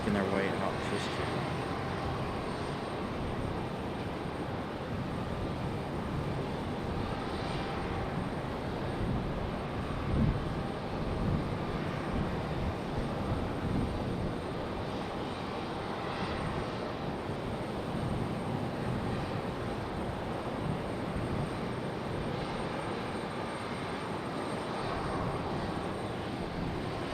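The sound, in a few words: airplane at Raleigh Durham airport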